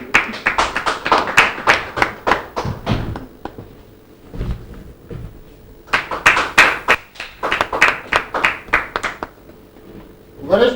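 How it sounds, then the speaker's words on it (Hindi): Welcome applause for a senior poet at a Holi program, heard as bursts of distinct, close hand claps in two main rounds separated by a quieter gap with talk in between. "जोरदार तालियों से उनका स्वागत।"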